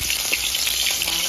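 Loud, close sizzling and crackling of ginger and garlic frying in hot oil, steady throughout with a light stirring scrape.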